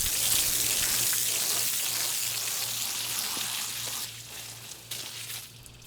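Water rinsing Teak Brite cleaner off a boat's teak deck, a steady spattering hiss of spray on wood with a low motor hum beneath, easing off toward the end.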